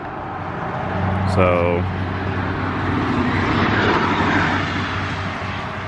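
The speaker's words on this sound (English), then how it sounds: "got a lot of traffic today going by" Road traffic rumbling past steadily in the background outdoors, a continuous low broadband wash with a brief louder whoosh early on, under a single spoken word.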